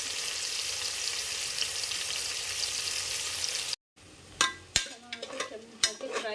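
Onions frying on a high flame, a dense steady sizzle close up that breaks off briefly, then quieter frying with several sharp clanks of a spoon against the pan.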